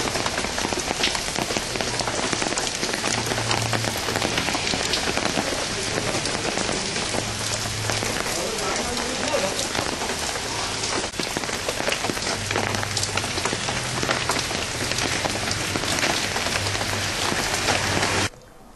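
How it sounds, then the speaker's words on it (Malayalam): Heavy, unceasing monsoon rain pours steadily onto surfaces in a dense, loud, continuous hiss that never lets up. "തോരാ മഴയിൽ പൊറുതിമുട്ടി ജനം."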